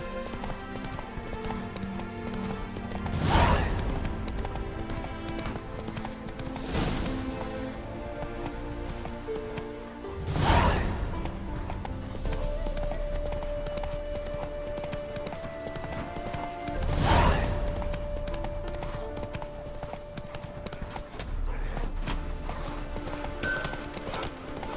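Roach, the horse from The Witcher 3, gallops in steady rhythmic hoofbeats, with a few louder whooshing swells and a whinny under a faint musical backdrop.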